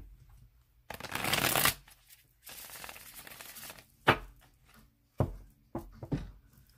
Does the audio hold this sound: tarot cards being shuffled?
yes